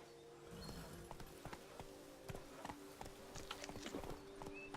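Roach the horse's hooves clip-clopping in The Witcher 3 game, a steady trotting rhythm of hoof strikes close by over a low ambient bed.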